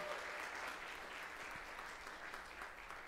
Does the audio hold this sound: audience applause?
yes